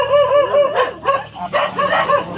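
A dog barks and yips in several quick, close, fairly loud bursts with a whining, tonal edge, without any talk over it.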